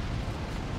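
A Dreadnought is destroyed by a shot in the Dawn of War 2 strategy game, producing a dense, rumbling explosion roar. It is loud and sustained through the short moment with no speech.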